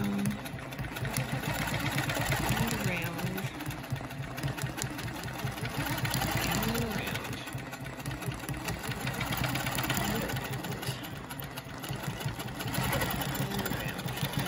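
A sewing machine stitches steadily along a quilting ruler, the needle chattering in a fast, continuous mechanical rhythm with a slight strain where the ruler is pushed too hard, close and loud throughout.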